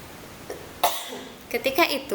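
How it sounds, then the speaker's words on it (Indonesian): A few short, sharp coughs close to the microphone, coming in a quick cluster after a brief pause. "sorry ya, batuk."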